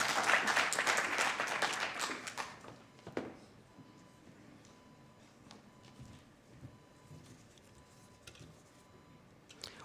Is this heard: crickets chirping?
no